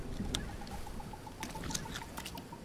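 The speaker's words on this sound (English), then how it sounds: "And here comes the rain again" Rain falling in the Green Hell jungle survival game, a soft, quiet patter with scattered drips and light taps over a faint steady background.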